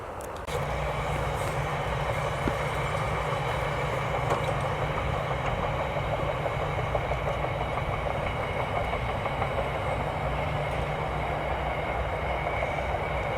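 A train runs along a railway beside the Leeds-Liverpool canal in Lancashire, a steady loud rumble with a sustained hum and rail noise throughout, without speech.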